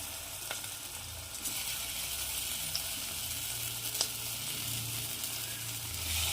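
Eggplant pieces fry in hot oil with onions in a pan, giving a steady close sizzle with occasional stirring clinks and scrapes throughout.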